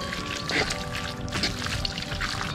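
Strained cooking liquid poured onto shredded pork for Italian pulled pork, a short splashing trickle up close with a couple of brighter gushes, then settling into a soft wet patter.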